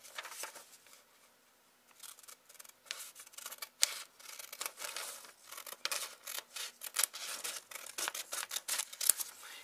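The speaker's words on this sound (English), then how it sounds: "You need to cut through here, right? Use your scissor." Scissors cut through folded paper for a snowflake, making a run of quick, crisp snips and rasping slices. The cuts start faint, then grow closer and more rapid.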